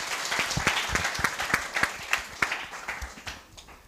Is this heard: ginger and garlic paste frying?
no